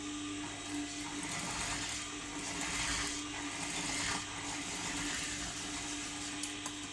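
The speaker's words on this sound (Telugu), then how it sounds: "ఇలా వెనక్కి తిప్పేసి ఈ ఎడ్జ్ మీద మనం కుట్టేసుకుందాం" A sewing machine runs in a steady, even whir while stitching along the edge of cloth for a school-uniform knicker, a continuous mechanical hum with no pauses.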